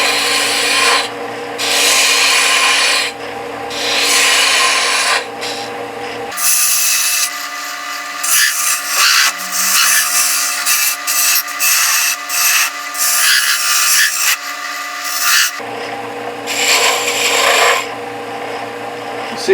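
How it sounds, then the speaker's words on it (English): An edge is rubbed against dry 220-grit sandpaper in rasping strokes, close and fairly loud, with a stretch of denser, harsher scraping in the middle before lighter strokes return. "I just rubbed it up against some dry 220 sandpaper."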